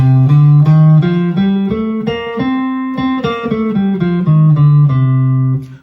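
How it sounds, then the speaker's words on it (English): A guitar plays a C Dorian scale, single notes rising to the octave and descending again at a steady, even pace, close and clean, with the final note ringing out and fading. "A C Dorian scale compared to C Ionian would sound like this."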